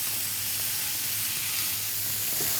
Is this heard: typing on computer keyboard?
no